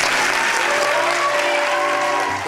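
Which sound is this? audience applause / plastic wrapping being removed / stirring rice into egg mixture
audience applause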